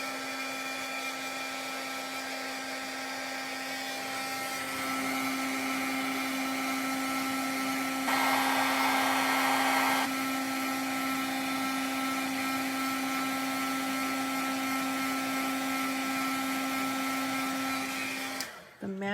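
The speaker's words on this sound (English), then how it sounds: "So let me just get my heat gun warmed up a little bit here." A heat gun for heat embossing runs as a steady electric whine and fan roar, loud and continuous for most of the span, with a brief stronger burst partway through before it cuts off abruptly at the end.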